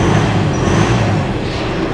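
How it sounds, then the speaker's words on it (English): A Mitsubishi L200 Warrior pickup's engine running, a dense low rumble that holds steady and close throughout with no voices. "Starts straight up, sounds really good. So really, engine sounds sweet."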